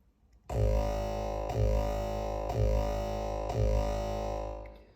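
Four heavy distorted 2012-style hardstyle kick drums pound at an even, steady pace, each with a booming, gritty low punch and a buzzing, sustained tail.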